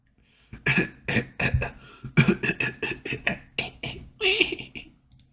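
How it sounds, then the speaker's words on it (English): Several sharp, harsh coughs come in quick bursts, close and loud, with a raspy throat-clearing quality and brief pauses between fits. "Listen to that cough."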